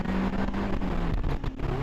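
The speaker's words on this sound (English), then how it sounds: "he's revving it higher than I did" A drift car with an open differential revs its engine higher, a steady moderate engine drone with a rising tone near the end, heard briefly and somewhat distant.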